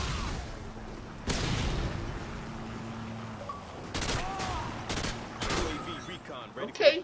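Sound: gunfire from video game Modern Warfare 2

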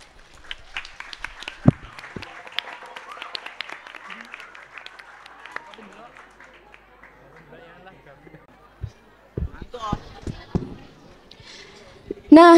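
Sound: audience applause

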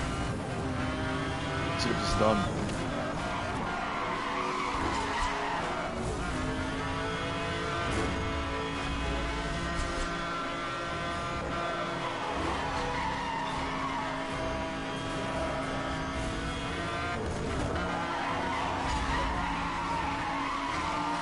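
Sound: hyperclass Bugatti car racing in Need for Speed Hot Pursuit video game

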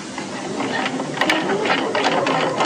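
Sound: sewing machine stitching in the ditch on a cuff

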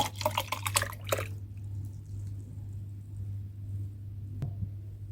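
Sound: pouring water into a jar

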